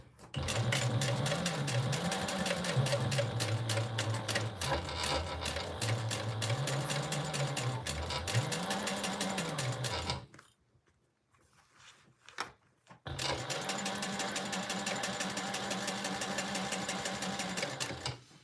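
A sewing machine bastes around a sling at a long stitch length, whirring in a steady rapid hum with slight speed changes, stopping briefly with some handling noise before running again.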